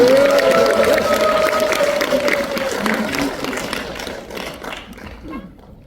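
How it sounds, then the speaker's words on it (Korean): Audience applause at a citizens' talk concert in Gwangju, a dense crowd clapping steadily with a few voices rising over it before it thins toward the end. "박수 한번 부탁드리겠습니다"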